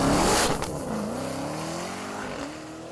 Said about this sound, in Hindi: That's the fastest acceleration production car you can get.